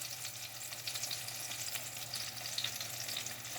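Apple fritters heavy with apple pieces fry in hot oil, giving a steady, close crackling sizzle with fine spitting and bubbling that holds throughout, with no voices.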